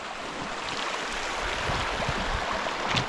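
Teton Creek flows nearby along a hiking trail, a steady rushing and burbling of water heard close and continuous with no talking.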